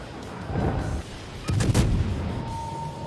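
Heavy naval guns boom in the World of Warships game, two deep blasts about a second apart, the second sharper and louder, with rumbling reverberation between them and no voices.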